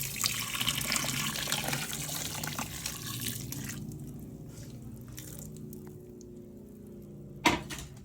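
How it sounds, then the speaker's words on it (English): Lukewarm water, about 300 ml, is poured onto a dry coco coir brick, a close splashing and trickling stream that gradually thins to a quiet dribble, ending with a brief knock. "you add 300 mils of water, warm water, like lukewarm water"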